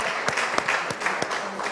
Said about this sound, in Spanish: Los aplaudimos.